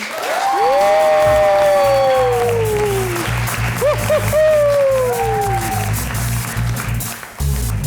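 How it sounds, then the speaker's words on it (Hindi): Studio audience applauds and cheers to welcome film star Noor Bukhari onto a Pakistani TV talk show, a loud sustained wash of clapping with a sung melody riding over it. "तो आप सबकी भरपूर तालियों में तशरीफ लाती हैं फिल्म स्टार नूर।"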